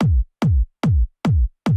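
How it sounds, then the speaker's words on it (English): Hard trance kick drum from a drum sampler, struck five times in a steady rhythm, each hit punchy and loud with a booming low tail. "this is a hard trance kick"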